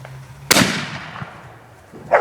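New Year fireworks explode in two sharp, loud, close bangs. The first blast rings and fades over about a second, and a second burst follows shortly after.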